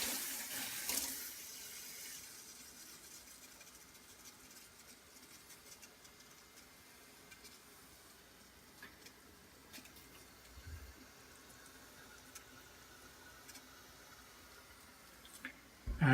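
A barley fodder system sprays water over sprouting barley trays, a soft, steady hiss of running and dripping water that stays faint and continuous, with a few small clunks and a louder rush at the start.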